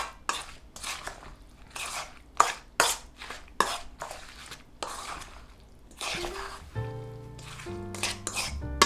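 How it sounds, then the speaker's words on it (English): Thick okonomiyaki batter stirred in a bowl, scraped from bottom to top, giving a rapid run of wet slaps and clinks against the bowl, loud and close, ending with a few short tonal scrapes. "Make sure to blend from the bottom to the top for better consistency."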